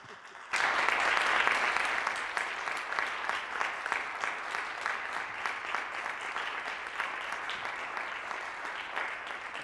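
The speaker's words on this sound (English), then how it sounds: "So I don't know if you heard the applause." Audience applause for a San Francisco Ballet film panel bursts in after a brief quiet start, then settles into sustained, even clapping from a sizable crowd that tapers slightly toward the end.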